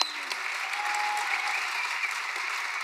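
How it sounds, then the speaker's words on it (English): Steady applause from a Game of Thrones Comic Con panel audience for the cast, dense and sustained through the whole stretch with no pauses, fairly close and even in level. "Give them a round of applause, these guys."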